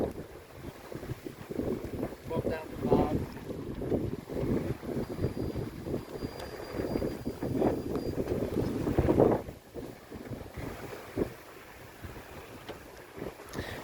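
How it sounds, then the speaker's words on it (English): Wind rushing over a heeled-over sailboat under way at about 7 knots, a steady broadband roar with gusty swells and buffeting against the microphone, plus faint water noise along the hull. "We are heeled over, and the wind just picked up."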